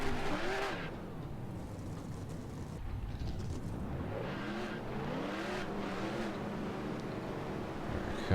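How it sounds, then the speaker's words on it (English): Race car engines in the NR2003 racing game hum and rev steadily for the whole stretch at the start, a continuous moderately loud drone with rising and falling pitch sweeps and no talk. "Start your engines!"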